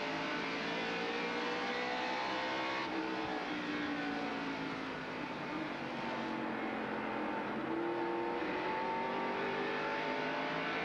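A NASCAR stock car engine roars in onboard view during the 1989 Holly Farms 400 at North Wilkesboro Speedway, with a continuous, moderately faint engine drone that rises and falls in pitch through gear changes and corners.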